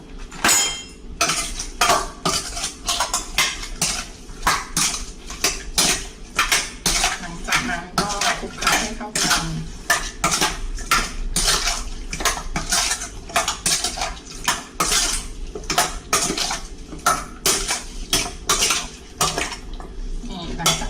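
Marinated small chicken wings being tossed and mixed in a bowl, producing rapid, repeated clinks and scrapes of utensil against dish in a steady, busy rhythm, close and fairly loud, with no talking.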